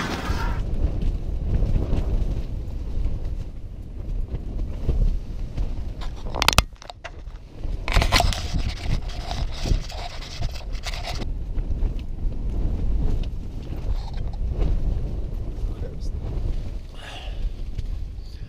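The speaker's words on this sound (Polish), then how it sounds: "Wiatr nie odpuszcza ani na chwilę." Steady, roaring wind at 5,300 metres in the Andes of Argentina buffets the microphone throughout, with a few louder rushing gusts and faint rustling in the background.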